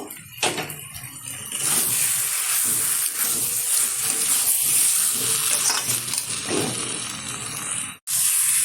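Stingray fish curry is sautéed with spices, cardamom and cloves in a pan, giving a loud continuous hissing sizzle with stirring scrapes throughout, a brief drop near the end, then sizzling again, with no talking.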